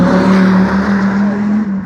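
A sports car roars past at a car festival, its engine loud and close with a strong sustained drone that slowly fades as it pulls away, with no talk over it.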